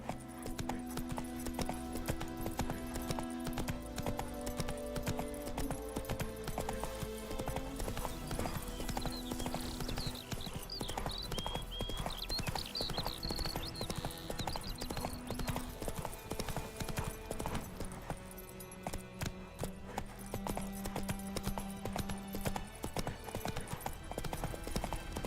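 Hooves of Roach, a horse in The Witcher 3 video game, trot in a steady clip-clop rhythm throughout, mixed with game music and ambient sound.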